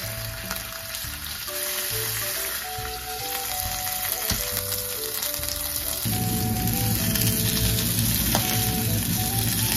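A fish head sizzles in olive oil in a pan, with a steady, close crackle and hiss lasting throughout; a musical backing plays underneath.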